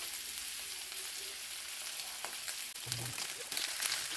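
Lamb loin seasoned with all-purpose seasoning sears in a hot pan, giving a steady broadband sizzle and crackle with a few sharper pops near the end.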